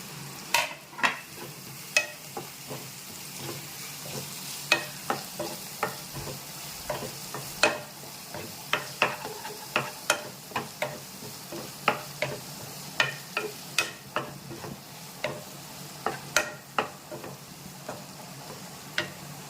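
Onion, capsicum, ginger, garlic and green chili are sautéed in a pan, with a steady sizzle broken by frequent sharp spatula scrapes and clicks in an uneven rhythm, close up and with no talking.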